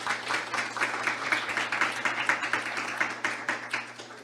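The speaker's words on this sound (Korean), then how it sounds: "큰 박수로 환영합니다." An audience at a forum on the DMZ gives sustained, even applause welcoming a guest, filling the room with dense, continuous clapping before it tapers slightly toward the end.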